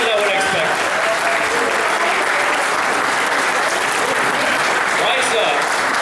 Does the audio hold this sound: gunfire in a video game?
no